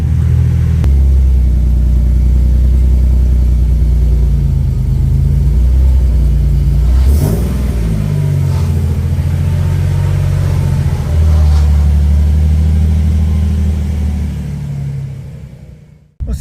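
Nissan 300ZX Z32 convertible engine idling and rumbling close by as the car backs out, a loud, low steady drone with a brief rev near the middle before it shuts off at the end.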